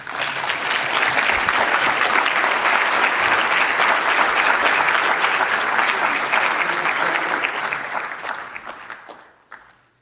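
A lecture audience breaks into loud, sustained applause for Charles Michel, President of the European Council, holding steady for about eight seconds before tapering off into a few last claps.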